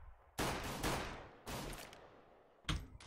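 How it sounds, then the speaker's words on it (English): A grenade blast and gunfire in a CS:GO match on Inferno come through as loud bursts, several heavy close booms with decaying tails spaced across the moment, and a final sharp burst near the end. "He's going to drop that nade into alt, and it's going to find some decent damage."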